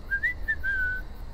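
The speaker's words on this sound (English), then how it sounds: "He's whistling!" A character in The Walking Dead: The Final Season video game whistles a short, clear tune of a few wavering notes, fairly close and alone over a low background hum.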